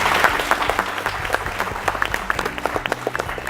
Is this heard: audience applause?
yes